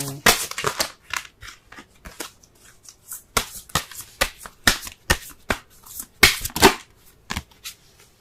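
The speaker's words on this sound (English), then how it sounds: "Let's go ahead and pull a Romance Angels card." Tarot cards being shuffled and pulled, crisp riffling bursts and snappy card flicks repeating in irregular clusters, close and fairly loud with quiet gaps between.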